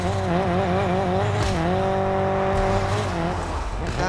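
A Honda Civic in the Car Parking Multiplayer 2 racing game on a mountain map, its engine whining with a wavering tone as the brakes bite, steady and loud with no talk.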